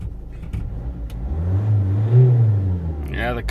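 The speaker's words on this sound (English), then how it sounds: "Yeah, the car is revving absolutely fine now." A Land Rover Freelander TD4 diesel engine revs up from idle, its pitch climbing to a peak and settling back, close and fairly loud, with a person talking over it.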